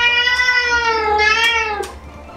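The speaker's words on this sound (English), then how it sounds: "Hey Alexa, meow like a cat." An Alexa smart speaker plays a recorded cat meow, a single drawn-out, close and loud call lasting about two seconds with a falling pitch at the end.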